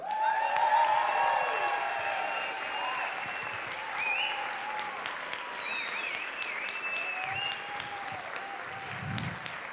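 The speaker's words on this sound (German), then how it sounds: "Begrüßen Sie mit mir ganz herzlich den Marcel Hasler." An audience at a stage event bursts into sustained applause, clapping steadily for several seconds as a person is welcomed on, the sound moderately distant and gradually easing.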